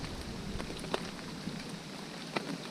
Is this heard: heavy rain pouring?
yes